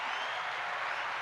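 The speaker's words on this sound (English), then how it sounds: "Can we get an applause break for that, Tony?" Short burst of applause at a party event, a brief, even wash of clapping with no speech over it.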